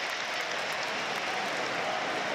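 Sunderland AFC fans in a football stadium give a ripple of applause for Jack Clark emerging from the dugout, a steady wash of clapping from a distant crowd with no voices over it.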